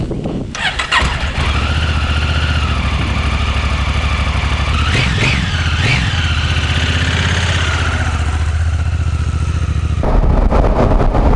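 A Honda Africa Twin on Motoz Tractionator DualVenture tyres runs with a loud, continuous engine drone close to the listener, with the revs rising and falling midway and wind rushing over it.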